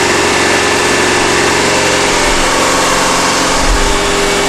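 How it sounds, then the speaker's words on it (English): A multi-cylinder petrol engine running on a test bench during a Morse test, a loud, steady, dense drone with a low throb that holds constant, plus a brief low surge near the end. "now the RPM of the engine is increased"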